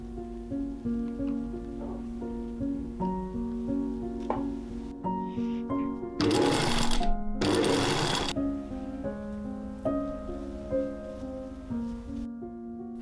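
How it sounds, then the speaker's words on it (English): A sewing machine stitches tulle seams for a dress in rapid bursts with pauses between runs, with a louder noisy stretch in the middle, heard up close. "Once I got one side pinned, I sewed along those pins and then continued on the other side."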